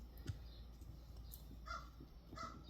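Crows caw outdoors, two short bursts of harsh calls heard at a moderate distance over a steady low background hum.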